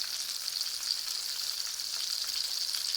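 Small fish frying in hot oil, a steady close hiss and crackle of sizzling with scattered pops, continuous and even with no voices.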